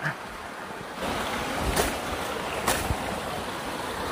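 A large forest stream flows with a steady broadband rush of water, heard close by, that swells louder after the first second and is joined by brief splashes.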